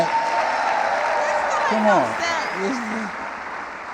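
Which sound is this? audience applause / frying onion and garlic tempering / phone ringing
audience applause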